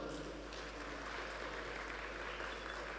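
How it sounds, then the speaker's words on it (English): Audience applause at the opening plenary of the Sustainable Apparel Forum in Dhaka, a steady wash of clapping from a large hall, distant and fairly faint, with a constant low hum underneath. "Can we please have a round of applause for him?"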